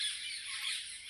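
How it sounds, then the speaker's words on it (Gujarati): Peacocks near a village lake let out a loud, shrill squawking call that rings out close and continuous for a brief moment. "પક્ષી કેવા બોલે જોઈ લો"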